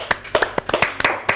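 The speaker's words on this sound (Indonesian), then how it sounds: "Tepuk tangan dulu yuk." Applause from a small audience at a campus talk show, a few sharp separate claps in an uneven rhythm, close and brief.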